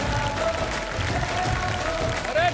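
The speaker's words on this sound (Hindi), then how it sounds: "अरे तालियां और पीटो" Studio audience applause on the MasterChef India set as the winning pair is announced, a steady wash of clapping over a low hum, with brief tonal music lines running through it.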